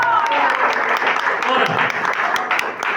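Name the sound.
church congregation applauding the Holy Spirit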